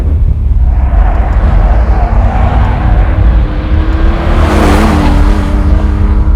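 Porsche 911 2.7 RS engine driving hard on a race track, a loud continuous roar heard from inside the car with a steady growl, and a brief rise and shift in pitch midway as the throttle changes.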